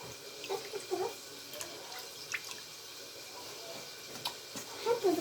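Chicken pieces are dipped into water, giving soft drips and light splashes in scattered bursts at close range, with quiet background murmur.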